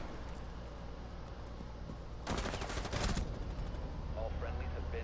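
A shotgun fires in Rainbow Six Siege: a loud, sharp blast of gunfire with a brief reverberant tail cuts in about halfway through. Before it there is a steady low in-game background hum.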